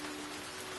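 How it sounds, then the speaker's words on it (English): Steady rain falls in an even, continuous hiss that fills the space, soft and unbroken with no voices. "Rain brings out the contours of what's around you"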